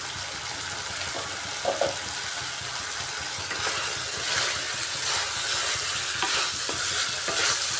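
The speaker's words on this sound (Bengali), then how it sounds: "খুব সুন্দরভাবে কষা হচ্ছে আদু আর সোয়াবিন বিচিটা" Ginger and soybeans frying in a pan, a steady sizzle with scraping stirring strokes recurring throughout, close and moderately loud, no talk.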